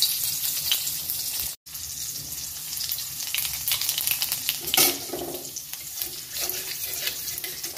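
Dry red chillies drop into hot oil in a pan and crackle and sizzle steadily, with a brief silent gap and a sharper spatter partway through.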